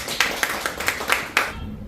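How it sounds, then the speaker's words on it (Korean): Audience claps to welcome a speaker at a political campaign gathering, a handful of sparse, distinct hand claps in an uneven rhythm that stop abruptly near the end. "박수로 맞아주시기 바랍니다."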